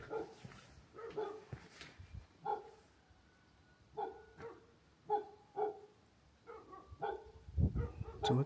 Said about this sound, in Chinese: 怎么突然狗叫不断呢？